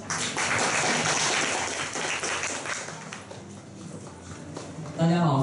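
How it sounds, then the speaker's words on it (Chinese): An audience claps to welcome a speaker onto a stage, a dense patter of many hands that thins out, then a voice starts at the end. "陈君，掌声欢迎"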